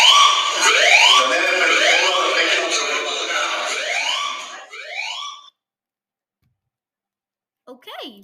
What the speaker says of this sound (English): All right, North Macedonia EAS alarm.